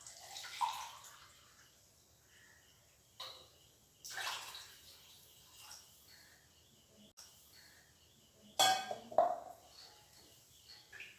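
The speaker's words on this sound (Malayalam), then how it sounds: "ഒരു മൂന്ന് ഗ്ലാസ് വെള്ളം ഇതിലോട്ട് ഒഴിച്ചു കൊടുക്കാം" Three glasses of water poured into a cooking pot for tomato rice in a few separate bursts, splashing briefly each time with quiet pauses between.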